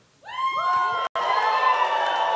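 A live event audience breaks into loud cheering and whooping that starts suddenly and holds steady, with high shouts riding over a broad roar, briefly cut off once before resuming.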